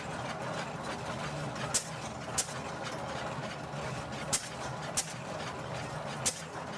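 An antique tractor engine with igniter ignition runs with a low, steady rumble, broken by sharp, irregular snaps or pops every second or so.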